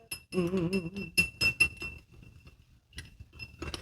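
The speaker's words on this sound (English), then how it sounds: "Once this honey dissolves mostly into the whiskey. So we're just gonna stir it up." Spoon stirring honey into whiskey in a glass, giving a handful of bright clinks and light scraping over about four seconds, close and clear, with no voices.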